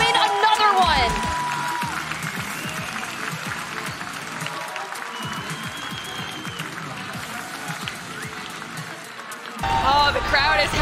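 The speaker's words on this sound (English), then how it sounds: "the crowd is happy about that one" Esports arena crowd at an ALGS Apex Legends playoff event roars and applauds steadily for about ten seconds, loud and dense, with a commentator's voice running over it and a brief music swell at both ends.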